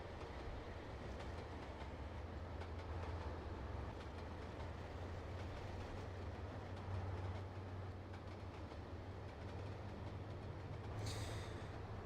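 A train running in the video game Trainz Simulator 2 on the Hawes Junction route gives a continuous low rumble with wheel clatter, and a brief high squeal comes near the end.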